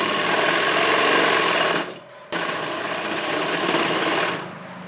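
A sewing machine stitches kurti fabric for a little girl's Patiala suit, running in a loud, steady whir, stopping briefly for about half a second, then resuming before easing off near the end.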